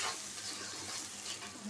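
Sliced onions sprinkled with salt fry in oil in a pan, giving a loud, continuous close-up sizzle with a rough crackling texture and no talking.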